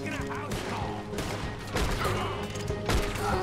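Gunfire in Red Dead Redemption 2, several sharp shots and a burst of firing over a steady game background, fairly loud throughout.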